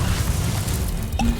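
Confringo fire spell exploding in Hogwarts Legacy, a dense booming burst that rumbles on for over a second, with a brighter pop near the end.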